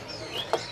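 A single short exotic bird chirp in a bird shop, a brief bright call near the end over faint room noise.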